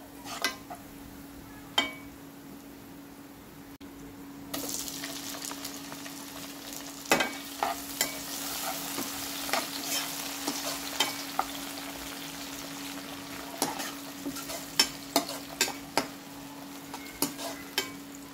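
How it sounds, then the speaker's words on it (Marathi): Browned onions frying in a pan over a medium gas flame, a constant sizzle broken by repeated sharp spoon scrapes and taps against the pan, close by. "मीडियम फ्लेमवर गॅस ठेवा आणि फिरवत जा। तर कांदा असा ब्राऊन झालाय"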